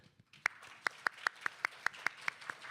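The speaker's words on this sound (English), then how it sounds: "A big round of applause to welcome our speakers too." A small audience at an Asia-Pacific private international law summit claps to welcome the speakers: a few slow, distinct, evenly spaced handclaps, fairly faint in a quiet hall, with no voices.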